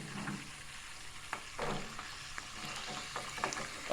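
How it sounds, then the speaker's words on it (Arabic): Almonds frying in oil, started in cold oil in a pan, giving a faint, quiet bubbling sizzle with occasional soft stirring scrapes and knocks. "غادي نبدا نقلي في اللوز ديالي، نحطو في الزيت بارده"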